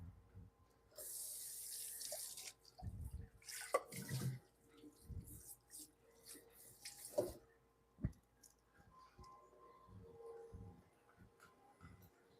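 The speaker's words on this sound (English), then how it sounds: "I'm gonna wash my bowl out while that's doing that." A bowl is rinsed under a running kitchen tap, with bursts of splashing water and a few hollow knocks and clinks against the sink, close and moderately loud.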